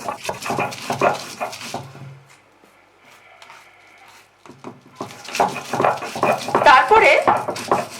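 Black cumin is ground dry by hand on a grinding stone, without water. Rough scraping and rubbing strokes come in two busy bursts with a quiet gap between them, and occasional speech is heard.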